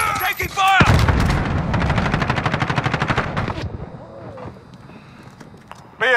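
Rapid automatic gunfire from Modern Warfare Warzone rattles in a dense, loud burst lasting a few seconds, then fades into quieter game ambience, with game voice callouts heard around it.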